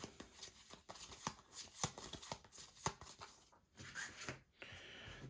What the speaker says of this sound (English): We're going to just shuffle all these together.